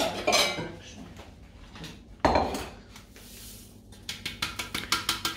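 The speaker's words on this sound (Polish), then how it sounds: "mieszamy to w miseczce ze skrobią na dwie porcje" Sugar being mixed with starch in a small bowl for a meringue roulade, heard as close clinking and scraping of a utensil against the bowl, ending in a quick run of rhythmic taps, with no talk.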